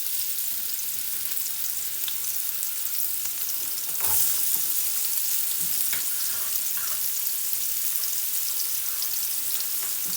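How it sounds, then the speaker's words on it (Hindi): Onions sizzling in hot olive oil in a pan over high heat, a steady broadband frying hiss throughout with a brief louder crackle and stir near the middle, close and alone with no talk. "हमारा गर्म हो गया है, इसके अंदर ऑलिव ऑयल डालेंगे। साथ ही हम अनियन ऐड कर देंगे।"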